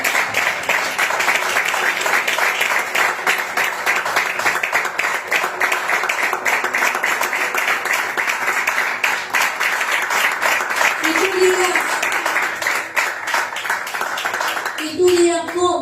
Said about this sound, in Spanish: Entonces hágale fuerte las palmas al Señor.